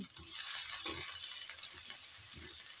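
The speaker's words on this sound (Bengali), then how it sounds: "পেঁয়াজটা একটু লাল লাল করে ভেজে নিতে হবে" Sliced onions fry in a pan until reddish-brown for a chanachur vegetable dish, giving a steady, moderate sizzle with a few soft stirring knocks.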